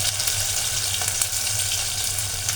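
Crushed ginger and garlic fry in a pan, giving a steady close sizzle with soft crackle and a few light stirring scrapes throughout.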